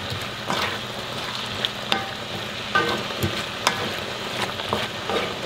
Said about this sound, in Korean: 이렇게 해서 볶아 주시면 됩니다